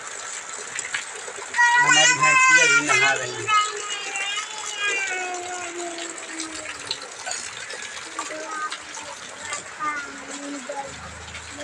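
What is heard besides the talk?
heavy rain falling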